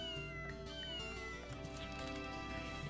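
A cat meows in the Wild ARMS ACF video game, a couple of high drawn-out meows over steady game music and ambience.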